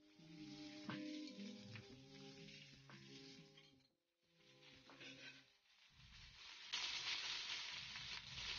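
Seafood for paella fries in a pan, a steady sizzle with a hiss that swells loudly near the end, broken by a brief pause, and a few clanking tones from the pan.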